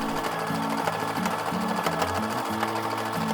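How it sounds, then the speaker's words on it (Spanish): A sewing machine stitches the corner of a fabric tote bag, its motor buzzing loud and close in short runs that stop and restart several times. "Y la cosemos de esta forma."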